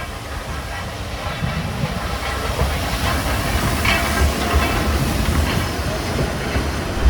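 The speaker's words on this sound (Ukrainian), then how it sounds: "От такий от вагончик, комфортніший наших плацкартів." A train carriage on the line to Douglas on the Isle of Man rolls along with a steady, loud rumble and a faint rhythmic clatter from the rails, constant throughout.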